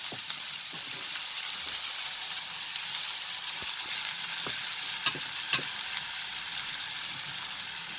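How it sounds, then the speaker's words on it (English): Onion sizzles in hot oil with a steady, close crackling hiss and scattered soft pops, no voices over it. "So we'll drop the onion into the hot oil."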